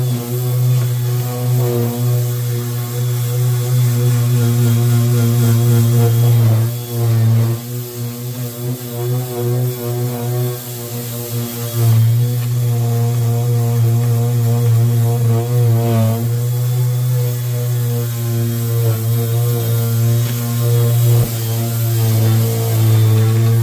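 An electric sander runs steadily and loudly throughout, its motor giving a constant buzzing hum with slight dips and shifts in pitch as it works across a small piece for a mini flag.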